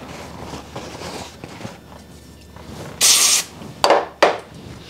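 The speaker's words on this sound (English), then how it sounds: "just a real light sanding." Light sanding of a steel part on a 7.3 Powerstroke engine during rear main seal work comes as a few short, sharp scraping strokes near the end, following quieter handling noises.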